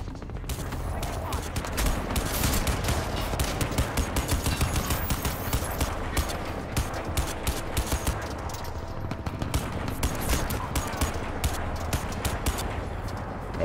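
Dense, continuous gunfire from the video game Crysis 2 fills the stretch with rapid automatic bursts and heavy impacts, loud and sustained throughout, while a player speaks over it now and then.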